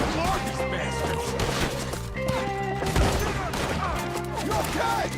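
Gunfire rings out in a Red Dead Redemption 2 shootout with rapid shots and crashing impacts, set against music. Voices shout over the fighting.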